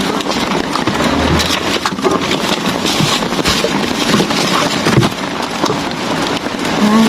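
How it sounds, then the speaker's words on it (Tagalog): Heavy rain falls steadily outdoors in a dense, unbroken hiss with patter on nearby surfaces, loud and continuous throughout, with a low engine-like rumble underneath. "mas malakas ba ang ulan ngayon o kahapon?"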